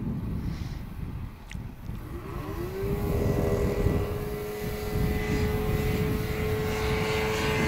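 A Lil' Cub light airplane based on the J3 Cub, with a nylon-covered fuselage and tail skid, flies at an outdoor STOL event in Somerton, Arizona. Its propeller engine drones steadily and then rises into a sustained, loud, even tone as it passes.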